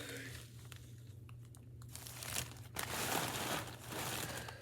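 A small plastic Ziploc baggie crinkles and rustles while being pulled off a newly unboxed doll, soft close-up crackling that grows busier toward the end, alone and quiet.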